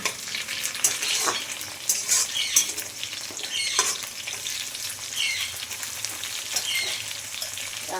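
Onions and green chillies frying in a pan for Nepali-style chicken, a steady close sizzle with frequent spatula stirs and scrapes clattering through it.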